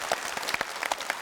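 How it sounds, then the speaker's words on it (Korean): Studio audience applause during a KBS Korean talk show welcoming a guest, a short burst of steady clapping with scattered sharper claps, moderately loud and without talk. "다시 한번 이상벽 씨도 박수를 좀 맞이해주셨으면"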